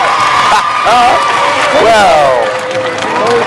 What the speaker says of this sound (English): The crowd has really brought it back to life again, and that is good.